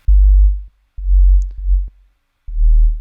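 A pure sine-wave sub bass synth from Ableton Operator plays four deep, smooth notes of varying length, separated by short gaps, with a faint click at each onset.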